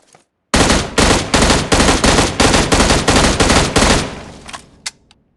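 M16A4 and MK47 Mutant burst rifles firing in PUBG Mobile, about a dozen loud close shots in an even rhythm with a brief trailing echo and a couple of faint clicks afterward.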